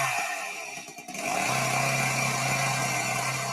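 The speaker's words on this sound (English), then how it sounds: "It's a mini chainsaw." A mini chainsaw in a video game revs with a brief sputter, then settles into a steady, loud buzzing drone that runs without a break to the end.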